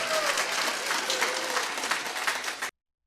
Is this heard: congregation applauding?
yes